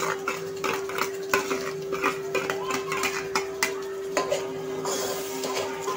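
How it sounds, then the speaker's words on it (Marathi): Onion and coconut masala paste being stirred in hot oil for a chicken curry, repeated scraping strokes of a spoon against the pan over a soft sizzle, close and rhythmic, with a steady hum behind. "तर आपण हा परतून घ्यायचा आहे छान तेलावरती."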